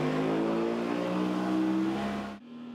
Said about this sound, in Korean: 승객을 태운 소형 모터보트 한 대가 거센 물보라와 함께 출발합니다.